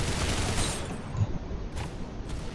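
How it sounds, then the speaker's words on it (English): Rapid bursts from an automatic shotgun in a shooter video game, a dense run of loud, fast shots with no pauses between them. "it's automatic shotgun. It's a max 7."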